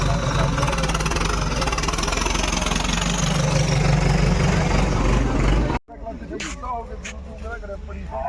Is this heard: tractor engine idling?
yes